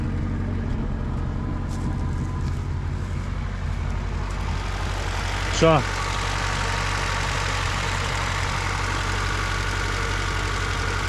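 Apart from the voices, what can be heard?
car engine running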